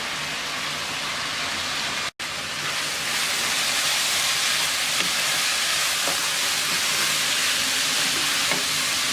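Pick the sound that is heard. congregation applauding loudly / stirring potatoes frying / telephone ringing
stirring potatoes frying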